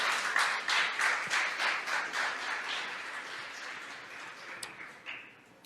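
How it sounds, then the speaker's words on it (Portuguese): A church congregation applauds during a sermon, a dense wash of many hands clapping that swells in waves and then gradually thins and fades over several seconds, with no voices. "Você pode aplaudir ao Senhor?"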